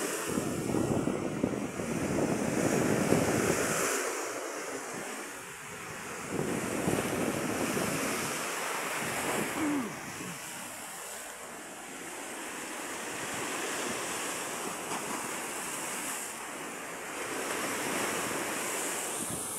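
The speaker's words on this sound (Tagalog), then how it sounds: "Galit na galit yung dagat." Rough sea waves crash and surge continuously along the shore at New Washington, Aklan, a heavy roaring wash with gusty wind noise buffeting the microphone and no voices.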